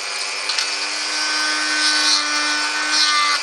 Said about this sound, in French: mini perceuse avec une fraise, bon là j'ai pris une fraise assez grande